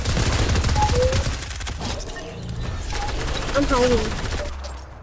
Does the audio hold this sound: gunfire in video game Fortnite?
yes